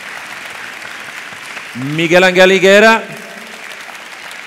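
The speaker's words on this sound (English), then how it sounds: "Big round of applause." Audience at an animal welfare conference claps steadily in the background while a man announces a name loudly over the applause.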